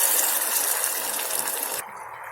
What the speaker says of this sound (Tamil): வெல்லம் கரைகிறதுக்காக ஒரு 1/2 டம்ளர் தண்ணி ஊற்றி இருக்கிறேன்